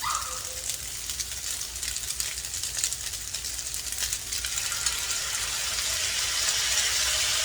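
Noodles and shrimp sizzling in a lo mein style stir fry, a steady loud hiss of frying that swells slightly toward the end, with no talk.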